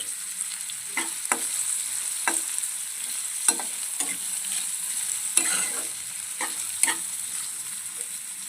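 Curry leaves fry in hot oil while being stirred, with a bright steady sizzle and a string of sharp, irregular spatula scrapes against the pan. The sound is close and clear, with no voices.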